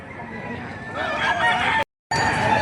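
A rooster crows loudly and close among other chickens at the Padre Garcia, Batangas livestock auction, with brief clucking, then a sudden cut to silence before the poultry sounds resume.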